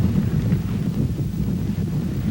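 Constant low rumbling wind buffeting the microphone, loud and unbroken throughout.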